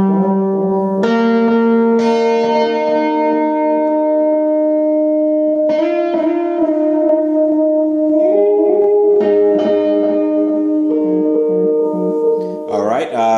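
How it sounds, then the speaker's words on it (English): Sustained electric guitar notes ring out with a spacious echo and lingering reverb tails, each chord blooming and fading before the next. "we'll go ahead and kick on the delay and the reverb."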